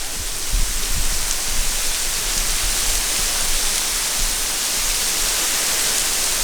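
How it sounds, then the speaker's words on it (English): A waterfall pours in a steady, loud, broadband roar, heard up close from a viewing platform where one can stand behind the falling water, with no talk over it. "you can actually stand behind the waterfall"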